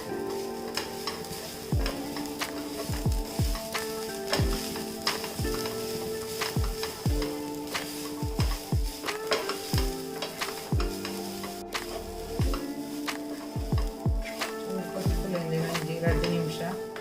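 Turmeric and spices fry in a pan for a chicken gravy, a light sizzle broken by frequent sharp clinks and taps of a spoon against the pan, with tonal background sounds running throughout.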